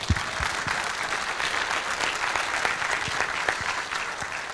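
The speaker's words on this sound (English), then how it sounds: "So I want to make sure we give her a round of applause." Warm applause at an all-staff meeting, a crowd clapping steadily and fairly loudly throughout, with a few sharper individual claps standing out.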